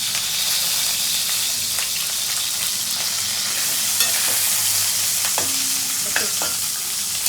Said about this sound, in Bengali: বেগুনগুলোকে একটু ভাজতে দিয়ে দিলাম, কালো জিরে দিয়েই ভেজে নিচ্ছি